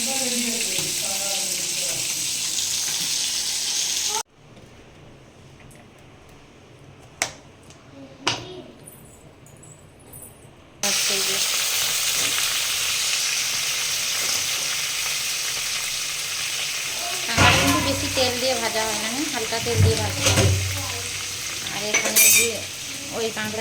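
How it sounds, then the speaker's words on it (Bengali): Bhola fish frying in a pan, with a steady oily sizzle that drops away for several seconds before returning, and occasional light clinks of utensils near the end. "এখানে ভোলা মাছ ভাজা চলছে"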